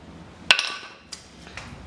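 A hammer taps once against the clip on a Suzuki DL650 V-Strom motorcycle chain, a sharp metallic clink near the middle, followed by a fainter tap shortly after.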